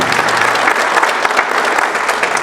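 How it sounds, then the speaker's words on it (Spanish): Audience applause honoring active-duty members of the public security forces at a lecture by a retired major general, dense steady clapping from a crowd throughout, loud and close. "un aplauso para estos activos que nos acompañan en nuestra fuerza pública"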